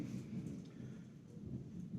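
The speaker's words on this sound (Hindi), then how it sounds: "बारिश हो रही है बहुत तेज" Heavy rain pours steadily during a storm, with a dense low rumble throughout and faint thunder-like swells, heard quietly and alone.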